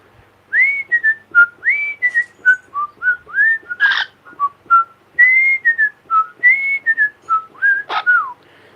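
A parrot whistles a theme tune, a bouncy, clear series of rising and falling notes with a couple of harsher squawk-like bursts mixed in.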